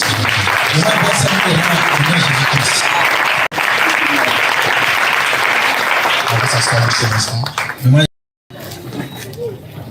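A church congregation applauding loudly and continuously, dense clapping mixed with voices and cheers, cutting briefly to silence before resuming more faintly.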